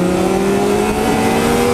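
A sport motorcycle, a Kawasaki Ninja 250R or Yamaha YZF-R6, revs hard and accelerates close by, a loud, steady, sustained engine drone filling the whole moment with no talk.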